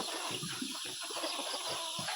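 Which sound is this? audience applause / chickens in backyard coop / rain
chickens in backyard coop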